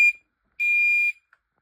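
A school fire alarm sounds in sharp electronic beeps, one short bleep followed by a longer half-second tone, piercing and clean against silence, with a tiny chirp after.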